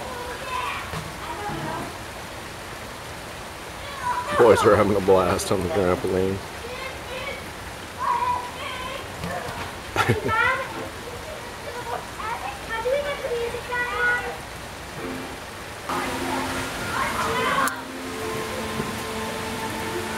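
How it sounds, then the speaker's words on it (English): Steady rain falling outdoors on a rainy Saturday, a constant hiss under children shouting and playing on a trampoline and adults talking nearby. "So it's raining out pretty good."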